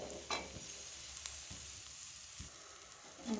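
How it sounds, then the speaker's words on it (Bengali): Kalai lentil filling for pithe being stirred in a pan, a soft steady sizzle with a few scraping strokes of the spoon at irregular moments, close and fairly quiet. "দিয়ে ভালোভাবে নেড়ে নেব।"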